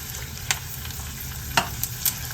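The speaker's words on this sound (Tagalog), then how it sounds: "Kailangan po talaga medyo ginagalaw-galaw. Dahan-dahan lang. Para even maluto ng maayos ang chicharon." Chicharon fries in hot oil, a steady crackling sizzle that runs throughout, with a few sharp scrapes and clinks from slow, gentle stirring, close by and without voices.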